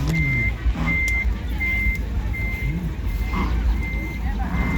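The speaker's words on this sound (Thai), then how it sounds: "อันนี้คือรถคอนวอยมาหอดแล้วนะครับ" A convoy truck reverses at a site in Khon Kaen where a concert stage is being set up. Its loud, steady backup beeper repeats at an even rhythm over a low engine rumble, with faint voices in the background.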